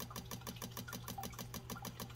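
A KTM 950 motorcycle fuel pump runs on test, lifting fuel about 2.5 feet upward, giving a fast, even mechanical buzz with rapid regular pulses, close and steady with no talking.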